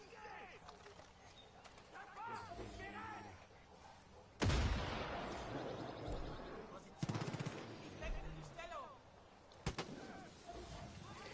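Gunfire in the video game Far Cry 5, heard as a few sharp bursts of shots, one loud blast mid-clip and a couple of later reports, alongside bird-like ambience and game sounds.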